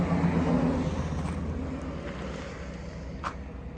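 A vehicle backs up slowly with an 18ft camper hitched behind, giving a steady low engine rumble with wind-like outdoor noise and a faint clunk near the end, no talking.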